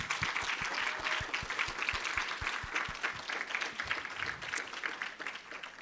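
An audience at a university final presentation event applauds the presenting teams with a full round of clapping. A few sharp individual claps stand out near the front, and the applause thins slightly toward the end.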